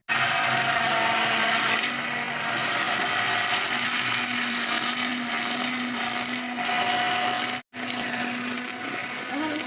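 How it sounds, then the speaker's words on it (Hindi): An electric hand mixer beating cake batter whirs steadily with a high, even mechanical whine, running continuously and cutting out briefly near the end before resuming. "अगर आपके पास इलेक्ट्रिक बीटर नहीं है तो आप हैंड मिक्सर का भी यूज़ कर सकते हैं"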